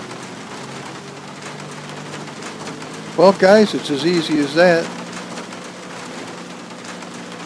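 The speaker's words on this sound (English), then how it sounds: "if you don't have the sound of rain, all you have to do is go back to 150 on the shaders patch, and you will have it" Simulated rain from video game weather running a shaders patch hisses steadily throughout as a continuous patter, while someone speaks briefly over it in the middle.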